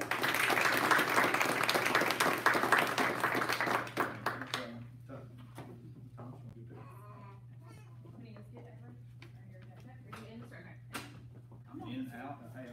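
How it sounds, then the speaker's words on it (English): Applause from a school board meeting audience honoring Middle District students, dense clapping for about four seconds before fading into quieter room murmur and talk with a steady low hum underneath. "let's give them one more big round of applause"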